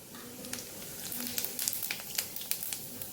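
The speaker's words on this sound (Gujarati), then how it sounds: "અડધી ચમચી જેટલું આપણે જીરું ઉમેરશું" Half a spoon of cumin seeds sizzles in hot oil for a Kathiyawadi stuffed okra curry, with a soft frying hiss broken by quick, crackly pops close by.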